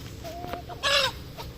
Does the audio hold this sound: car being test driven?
no